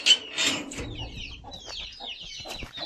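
A hen clucks with her chicks in a village setting: a few close, low clucks mixed with a run of high, thin chick peeps chirping continuously.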